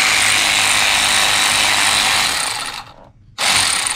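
An electric ratchet spins out bolts on a Genesis G70 3.3T during a blow-off valve install, its whine loud and close for nearly three seconds, then it drops out briefly before kicking back on.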